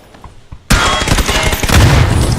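Loud, rapid shotgun fire in PUBG erupts suddenly after a quiet moment, a dense barrage of heavy shots continuing without pause.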